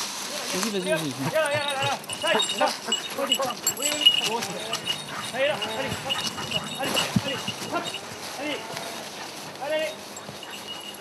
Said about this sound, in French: C'est les chiens.